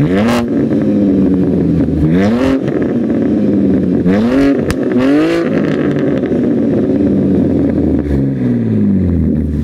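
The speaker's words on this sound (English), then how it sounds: "I will rev the car another place and include those sound clips right now." BMW G80 M3 engine revving hard in repeated bursts, pitch sweeping up and falling back between blips, loud and close with no talking over it.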